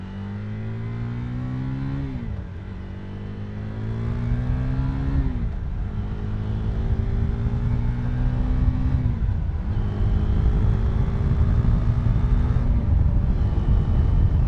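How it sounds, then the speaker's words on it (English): A beginner rider's motorcycle accelerating through the gears, its engine note climbing and dropping at each shift, about four rising pulls over steady road and wind noise, close and fairly loud with no talking. "I love that feeling of riding a motorcycle."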